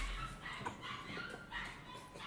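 A dog whimpers and gives short yips, close by, in a steady string of small whining bursts over low background noise.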